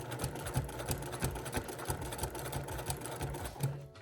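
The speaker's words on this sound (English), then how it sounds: "you're gonna keep sewing down along the edge of your fabric" A sewing machine stitches binding down along the edge of a quilt's fabric, a fast steady mechanical chatter of needle strokes running continuously and close for the whole stretch.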